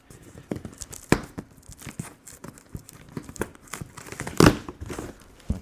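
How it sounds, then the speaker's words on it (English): Cardboard product box for an electric double-frame bubble tea shaker machine being cut open, with scattered crinkling and tearing sounds, a few sharp rips and one loud burst of tearing near the end, close and without talk. "we'll just cut open the front here."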